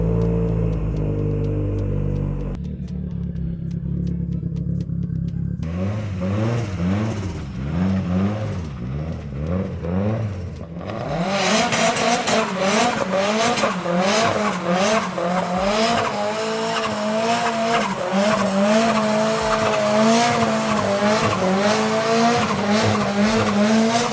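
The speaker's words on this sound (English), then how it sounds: "Exhaust is idiotically loud." A loud exhaust on a Nissan S13 drift car revs repeatedly, rising and falling in pitch, then roars continuously with screeching tires as the engine is held at high revs.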